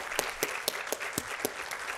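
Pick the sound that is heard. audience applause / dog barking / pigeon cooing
audience applause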